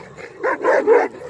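A female Kangal dog barks close by in a rural yard, giving three quick, loud, rough barks in a tight burst, with no talking over them.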